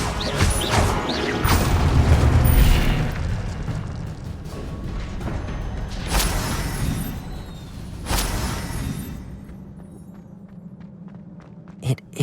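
Incendio fire spell cast in Hogwarts Legacy, a loud whooshing, roaring burst with crashing impacts that fades into quieter rumbles and a few later sharp hits.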